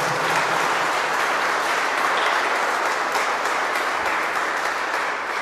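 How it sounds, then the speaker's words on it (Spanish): A church congregation applauding during a Sunday Mass: steady, dense clapping from a large crowd that fills the whole stretch at an even, fairly loud level. "Denle un aplauso."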